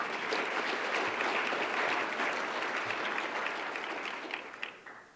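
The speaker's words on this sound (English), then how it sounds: "Go ahead and give yourselves a round of applause" A morning audience at an MLK diversity awards event claps warmly in a full, continuous round that holds steady and then tapers off near the end.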